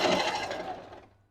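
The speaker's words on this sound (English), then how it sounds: "then you start sewing" A short burst of a sewing machine running as it stitches a doubled hair weft, a close, brisk whir lasting about a second before winding down to quiet.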